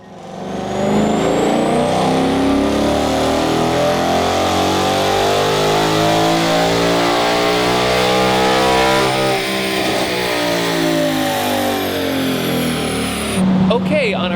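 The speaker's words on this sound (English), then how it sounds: "on our first dyno pull, we made 436 wheel horsepower on 93 pump gas" A Ford Mustang S550 runs a dyno pull, its engine climbing steadily through the gears with a loud, continuous rising roar, then cutting off near the end.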